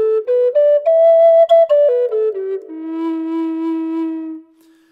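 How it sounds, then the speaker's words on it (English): Eclipse double flute by Woodsounds Flutes plays a minor pentatonic scale, notes climbing then descending in separate tongued steps before settling on a long held low tone with a drone, near and clear with no talking. "the main scale in most native flutes that I know of is a minor pentatonic, which sounds like this."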